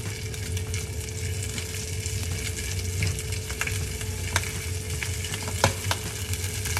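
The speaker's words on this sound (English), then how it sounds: "you're gonna cook it the longest on the skin side, because you want the skin to get crispy" Salmon fillet frying skin side down in olive oil in a pan, a steady close sizzle with crackling pops and occasional sharper spits of hot oil, alone without talk.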